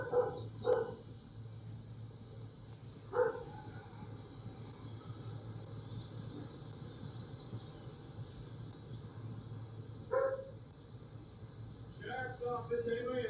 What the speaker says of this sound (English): how loud does that dog have to be?